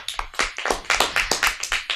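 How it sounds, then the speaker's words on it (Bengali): Children clap for a young dancer named Jinilia after her performance at a kids' show, a brisk run of about a dozen sharp, evenly paced claps, close and fairly loud with no talking over them. "জিনিলিয়ার জন্য জোরে হাততালি দাও"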